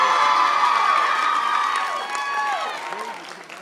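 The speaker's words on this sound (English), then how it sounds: "The social welfare group here claps a lot when we talk about that." A commencement audience claps and cheers with whoops and shouts, a loud burst that fades into scattered clapping.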